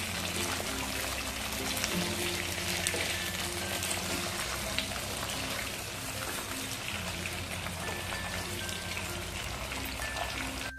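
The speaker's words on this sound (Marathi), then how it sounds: "आता आपण हे मिरच्या भरलेल्या तेलामध्ये घालूया." Stuffed capsicums fry in oil with a dense, constant crackling sizzle up close, broken by faint stirring noises, no voices.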